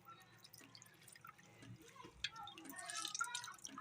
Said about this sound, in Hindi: इस तरह से हम हाथ की मदद से बिल्कुल निचोड़ देंगे इनका पानी।